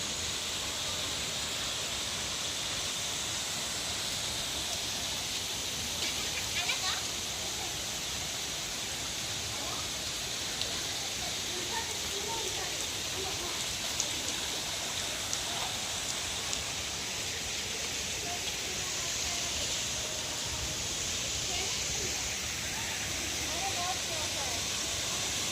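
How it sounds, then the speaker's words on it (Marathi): A waterfall seen from a distance on a hill trek makes a steady, even rushing hiss like heavy rain, unbroken for the whole stretch, with faint voices now and then. "इकडे सुद्धा फोटो सेशन चालू आहे आणि हा आहे धबधबा."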